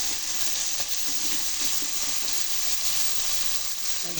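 White brinjal sautéing in a pan for dry fish curry gives a steady, close frying sizzle with faint stirring scrapes, continuous and uninterrupted by talk.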